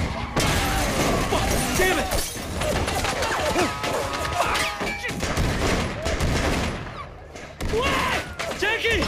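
Rapid assault rifle bursts in Sleeping Dogs, loud repeated gunfire rattling over several seconds amid crashing impacts, with someone speaking Russian between and under the shots.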